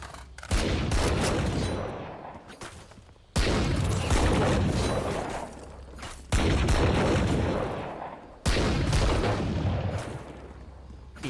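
Gunfire rattles through a video game shootout in four long, loud, sustained bursts of rapid shots, each cutting off sharply before the next volley begins.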